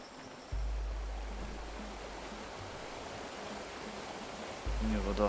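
Waterfall in the survival game Tribe: Primitive Builder, a steady broadband rush of falling water that swells louder partway through, with a low rumble starting and stopping and a brief voice near the end.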